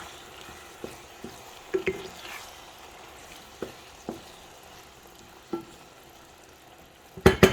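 Diced tomatoes, two of them, added to a hot pan and sizzling with a soft crackle, with scattered stirring clicks and a few louder knocks, one burst of clatter near the end.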